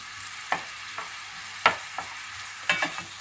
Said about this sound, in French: on va faire revenir dans 3-4 cuillères à soupe d'huile d'olive